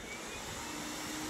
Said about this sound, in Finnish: Sitten meillä on tuo imuri tuossa, niin laitetaan sekin vielä siihen päälle.